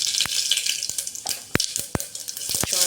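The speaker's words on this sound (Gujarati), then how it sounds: "ચણા વઘારી લો." Boiled chickpeas for Gujarati chana masala sizzle in hot oil as they are tempered, a constant hiss punctuated by sharp, irregular spoon clicks against the pan.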